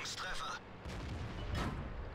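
A tank shell clangs off armour in World of Tanks. A loud bang is followed by a dull rumbling impact against continuous battle noise.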